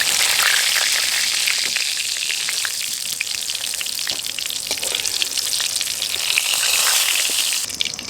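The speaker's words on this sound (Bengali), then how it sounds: "পটলটাকে এভাবে ঘুরিয়ে ঘুরিয়ে খুব ভালোভাবে ভেজে নেব।" Pieces of pointed gourd fry in hot oil with a loud, steady crackling sizzle and faint stirring scrapes, heard close up and without talk, easing off at the very end.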